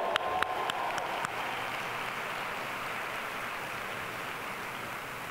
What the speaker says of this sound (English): let's give a round of applause to these 4 amazing speakers